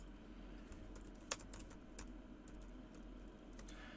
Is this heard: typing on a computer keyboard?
yes